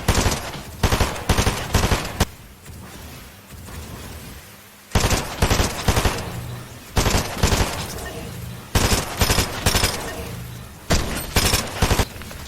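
Rapid bursts of SMG fire in a video game aim-training map on the short tracking setting, loud, close and clipped, coming in repeated clusters with short pauses between them.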